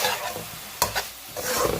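Chicken and baby corn frying with soy sauce, sizzling steadily while a utensil stirs the pan, with a few sharp scraping clicks cutting through the close, continuous hiss.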